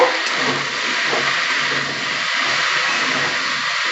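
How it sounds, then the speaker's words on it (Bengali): Potatoes and vegetables fry with chili powder and spices in a pan, giving a steady, close hiss of sizzling oil that stays even and fairly loud throughout. "আমি এবার একটু মশলাগুলো দিয়ে কষিয়ে নিচ্ছি"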